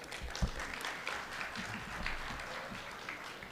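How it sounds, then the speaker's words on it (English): A round of applause at an Iftaar dinner gathering, many hands clapping in a continuous moderate burst with a few sharper claps standing out. "Let's give her a round of applause."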